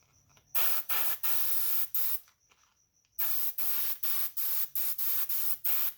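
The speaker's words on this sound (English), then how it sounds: "as we paint these forward sections, so our overspray doesn't hit that silver of that fuel tank" Bursts of aerosol spray paint hiss in short and long blasts with brief pauses, close and loud, coating the forward sections of a plastic model Freightliner dump truck kit.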